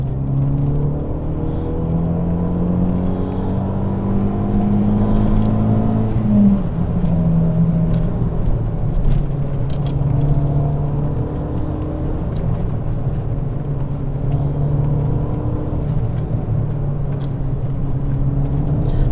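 Renault Megane R26 F1 turbocharged hatchback accelerating through the gears toward about 7,000 RPM, a steady engine drone with rising tones, a shift near the middle, and tyre and road rumble beneath, heard from inside the car.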